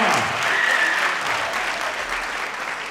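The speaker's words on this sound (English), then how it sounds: "give yourselves a round of applause" A youth audience at a Black History Month gathering in Oakland breaks into steady, dense applause that fills the room at an even level throughout, with no talking over it.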